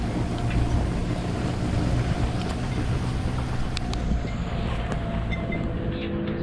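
Strong wind buffets a sailing boat at sea under cloudy skies, a continuous, roaring rush with rumbling gusts and occasional sharp knocks and creaks, close and unbroken.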